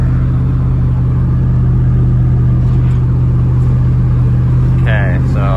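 A Lexus GX470 on 35-inch tires drives while towing a trailer, with a loud, steady low engine and road rumble filling the cabin throughout and a voice speaking over it.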